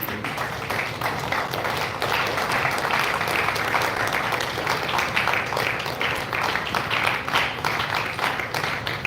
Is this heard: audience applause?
yes